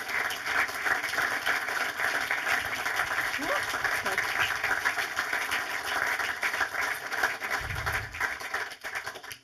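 Audience applause after a film screening with the director as guest, sustained clapping from a seated crowd heard at moderate distance, steady throughout and tapering off at the end.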